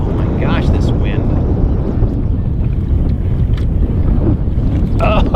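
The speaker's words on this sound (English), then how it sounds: "Oh my gosh, this wind." Strong gusting wind roars and buffets the microphone continuously while kayak fishing on a bayou, loud and steady with faint splashes of water underneath.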